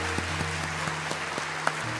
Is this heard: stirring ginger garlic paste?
no